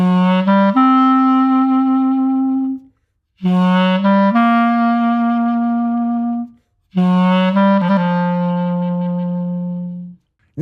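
Clarinet playing the opening four measures of a jazz tune, three long sustained notes with bright harmonics, each held several seconds and separated by short breaths, loud and close with no talking.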